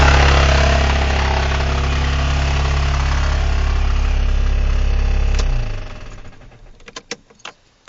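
A damaged Toyota Camry engine with a blown block runs loud and rough with a heavy, steady drone, then shuts off and winds down into quiet, scattered ticks and knocks.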